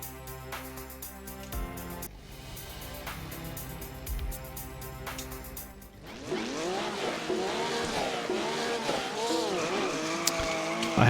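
Porsche race cars in iRacing Arcade roar together on track after a quieter menu hum, several engines overlapping with rising and falling pitches, tires squealing and skidding in a chaotic, loud pack.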